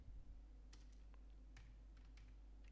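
Soft, sparse keystrokes on a computer keyboard while entering commands in Windows Command Prompt, a few quiet clicks scattered unevenly over a low steady hum, close by and faint.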